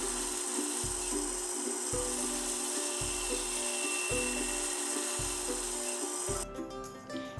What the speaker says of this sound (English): A few quick cuts at the bandsaw define the sides of the notches.